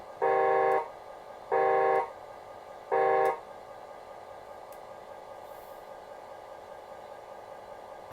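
Three short, loud horn blasts from a 1/14-scale model landfill compactor, with a buzzy, harmonic tone, evenly spaced over the first few seconds, followed by quiet background hum.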